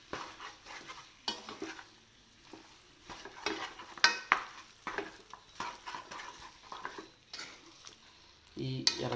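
Chicken pieces with salt and masala are stirred in a pan, giving repeated scraping strokes and soft sizzling in uneven bursts, close up, with a spoon clinking against the pan at times.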